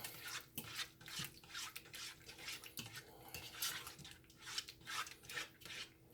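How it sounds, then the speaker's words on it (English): Shrimp macaroni and cheese is stirred in a pot, giving soft, rhythmic scraping and clinking strokes, quiet and close, with no talk. "We're gonna give this a stir. Stir this up."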